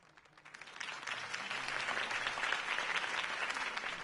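A large crowd at a city campaign rally for Harvey Dent bursts into applause after his speech, the clapping swelling within the first half-second into a dense, steady roar that holds loud to the end.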